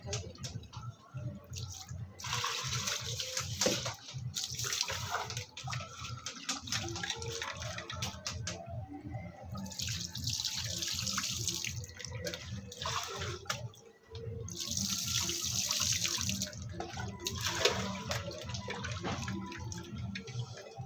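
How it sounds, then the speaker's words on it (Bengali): Rice is washed in a pot under a running tap, with steady water splashing and swirling as hands stir the grains, fairly close and continuous apart from a brief pause. "এখানে দেখতে পাচ্ছি আমি চালটা ধুই নিই"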